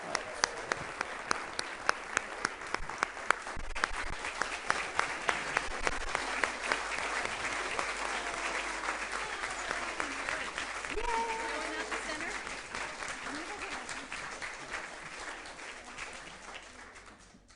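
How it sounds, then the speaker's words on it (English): A Sunday service congregation breaks into applause, distinct sharp claps at first building into sustained, moderately distant clapping that slowly fades, with voices murmuring beneath. "Let's give a big round of applause for these folks"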